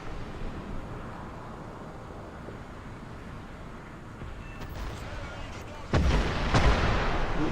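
A tank gun fires in the War Thunder video game, a heavy boom near the end that rises out of a constant rumbling engine and battlefield background.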